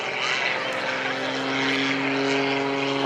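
An aerobatic propeller airplane at an airshow drones steadily overhead, its engine roar swelling slightly as it passes at a distance.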